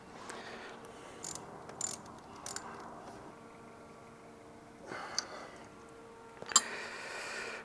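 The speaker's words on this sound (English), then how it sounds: "all we have to do is snug down the bolts and it will be nice and tight" A ratchet snugs down bolts on a Porsche 944 fuel line, giving faint, scattered clicks and short metallic rattles over a quiet background, with a sharper clack near the end.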